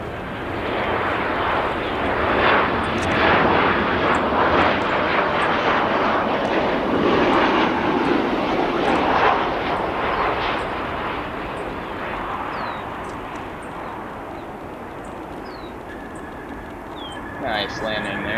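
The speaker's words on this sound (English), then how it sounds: "I'm going to pan over to that United 737 coming in from Sacramento." A United Boeing 737 jet arriving at O'Hare on runway 10 center, a loud, sustained broadband engine roar that stays steady for many seconds and then thins slightly as it passes, heard alone without talk.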